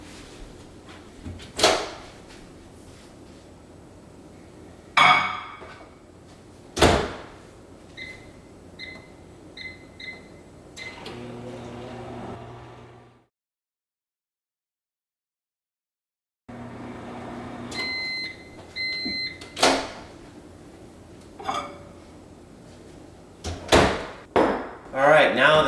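A microwave oven warming milk for homemade hot cocoa: the door clunks open and shut, keypad beeps sound twice, and a brief low running hum is heard between sharp handling knocks.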